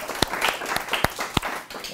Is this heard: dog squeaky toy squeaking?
no